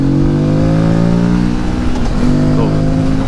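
A 2025 Morbidelli T1002VX motorcycle engine revs hard during a test ride, its note climbing and dipping briefly before climbing again, loud and close, with a rider speaking over it.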